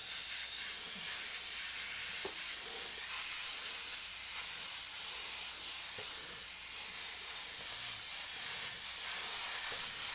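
An airbrush sprays paint onto a Grinch Christmas design with a steady, close hiss that runs the whole time. Faint clicks and handling sounds come through now and then, and no one speaks.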